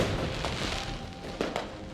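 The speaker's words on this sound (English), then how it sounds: "Why have we got fireworks now?" Fireworks go off in the Mars colony game Surviving Mars, a few sharp crackling pops and bursts over a hissing background, close and moderately loud.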